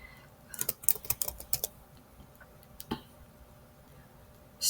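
Computer keyboard typing at a desk, a quick burst of close, crisp key clicks followed by a single tap, then quiet until a louder noise at the end.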